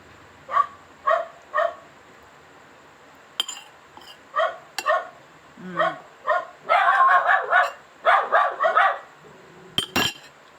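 A dog barks repeatedly at a home dinner of fresh shrimp and fish, a series of short sharp barks and yips coming in irregular bursts, some clustered rapidly together, with a few clinks in between.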